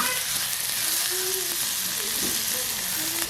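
Small onions frying in hot oil as a tempering for ginger sambal served with idli, giving a loud, even, continuous sizzle with faint stirring noises underneath.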